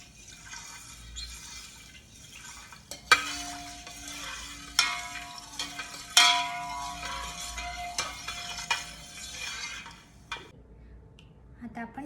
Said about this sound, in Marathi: म्हणजे सगळीकडून ती तळली जाईल.